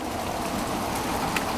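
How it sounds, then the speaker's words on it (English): Heavy rain pours steadily outdoors during a tropical storm, a dense, continuous hiss of drops striking surfaces close by, with no voices over it. "So it's raining quite hard."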